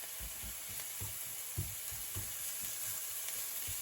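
Onions and garlic cook slowly in a pan over very low heat before mushrooms go in, making a soft, even sizzle with light rhythmic stirring scrapes throughout.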